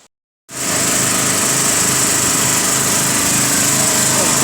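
A generator starts running after a brief silence, settling into a loud, steady, high-pitched engine drone close by that holds constant without pause.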